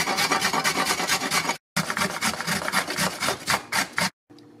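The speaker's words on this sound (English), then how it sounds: "Okay, ready to grate my carrots." Carrots rubbed quickly against a grater in brisk, loud, close rasping strokes, with a short pause partway through and a clatter at the end.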